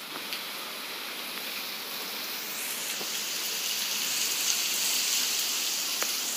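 Steady rain falls outdoors during a monsoon shower in India, a broad even hiss with scattered drops pattering close by, growing slightly heavier toward the end with no voices.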